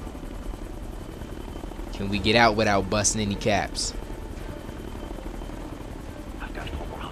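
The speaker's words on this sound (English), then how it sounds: "Got an enemy chopper here." A steady whirring enemy helicopter from the video game Ghost Recon Future Soldier drones on throughout, with someone talking over it partway through.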